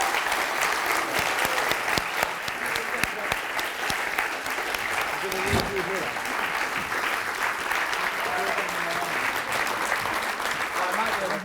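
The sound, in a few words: audience applause welcoming Michael Sheen and Michael Mansfield on stage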